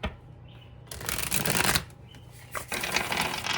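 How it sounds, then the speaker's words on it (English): Tarot cards are shuffled in two close bursts of crisp riffling and flicking, separated by a short pause, with no talking. "I need one more shuffle, guys."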